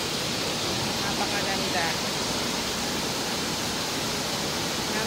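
Waterfall near Nina Tower in Hong Kong, a steady broadband rush of falling water filling the scene, with a person briefly speaking over it.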